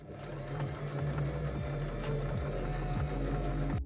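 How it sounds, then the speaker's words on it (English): A sewing machine runs an overcast stitch along the shoulder seams of a thrifted garment, its needle thumping in a steady, fast rhythm close by with a continuous motor hum and no talking. "So I'll set my machine to the overcast stitch, and I'm just going to go ahead and stitch these shoulders."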